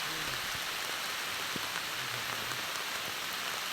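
Steady rain falling on a surface, a dense, even hiss with scattered drop ticks, constant and fairly faint throughout, with no voices.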